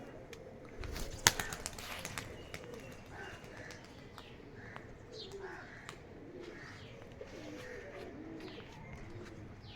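Male pigeon cooing in a courtship display among pet pigeons, soft repeated low coos over a steady background murmur of other birds, with a brief flutter of wings near the start.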